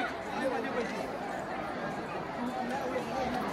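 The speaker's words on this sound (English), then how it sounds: "The crowd is massive here." Large crowd of devotees at the Thaipusam festival around Vadapalani temple in Chennai, a steady dense babble of many voices and footsteps, even and moderately distant with no single speaker standing out.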